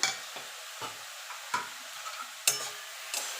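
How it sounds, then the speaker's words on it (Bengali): Radish ghonto with green chillies and fried bori stirred in a pan, a spoon scraping in a few separate strokes over a soft continuous sizzle. "এবার ভালো করে নেড়ে দেবো।"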